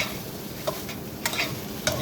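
Garlic fried rice is turned over in a hot pan, steady sizzling with a few distinct scraping strokes of the utensil, close and clear with no talking.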